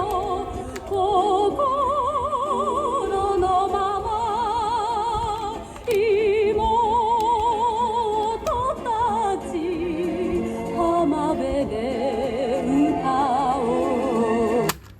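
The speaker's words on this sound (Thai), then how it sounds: "ลองฟังเพลงไทย นิดหนึ่งนะครับ" A Thai pop song with a wavering lead vocal over a steady band, playing continuously through the small, slightly tinny speaker of an AIWA TA-193 portable cassette radio.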